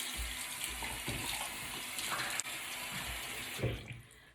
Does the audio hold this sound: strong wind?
no